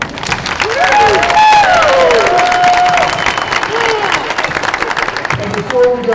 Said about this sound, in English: let's give all of our students one more round of applause